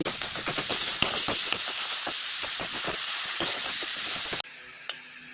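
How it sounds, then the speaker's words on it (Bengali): Boiled pumpkin (ash gourd) leaves, drained and stirred in a dry wok to drive off the water, hissing and sizzling loudly with repeated scraping stirs, then cutting off to near quiet with one last faint tap. "শুকনো কড়াইয়ে আবার অল্প নেড়ে নেব জল শুকিয়ে।"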